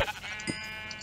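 A sheep in the Minecraft video game gives a single short, nasal bleat, clear and fairly quiet, heard alone without speech.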